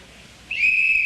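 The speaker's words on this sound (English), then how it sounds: "There's the whistle starting the second half." A referee's whistle blown sharply at a high-school quiz bowl to start the second half, one sustained shrill blast that begins abruptly and holds steady against quiet room tone.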